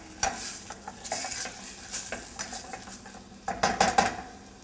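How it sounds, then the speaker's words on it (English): Chicken sautéing in a pan with onions, cardamom and fenugreek for butter chicken: steady sizzle under repeated stirring and scraping of a utensil against the pot, with clinks of metal, close and moderately loud, no talk. "Add it to the onions and the cardamom and the fenugreek. Saute it for a few minutes."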